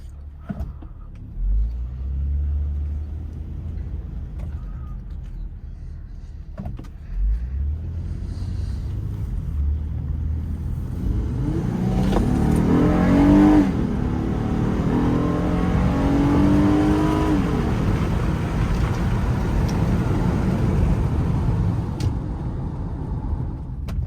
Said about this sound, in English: I'll show you guys what the VTEC engine can do.